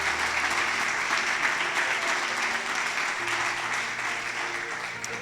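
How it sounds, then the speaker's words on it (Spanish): A church congregation gives a loud, sustained round of applause that fills the room evenly from start to finish, with a faint low hum underneath. "Vamos a darle un fuerte aplauso al Señor por ellos"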